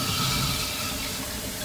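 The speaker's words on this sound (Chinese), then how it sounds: "我们把腌好的苦瓜洗一下，把苦水洗出去，沥干净。" Salted bitter melon being rinsed under running water, a steady close splashing flow from a tap that carries on without a break and without talk.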